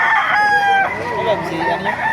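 A rooster at a chicken market in Baliuag, Philippines crows loudly and close by in a strained, wavering call, with faint background murmur around it.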